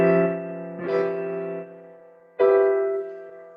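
A semi-resolving chord built from an octatonic scale sounds twice: a sustained harmonic chord swells and fades, then strikes again firmly at around two and a half seconds and rings out alone, with no talking.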